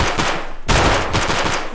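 Loud close automatic gunfire in the shooter game Escape from Tarkov, a rapid burst of repeated shots, a brief break, then another fast string of shots, no talk.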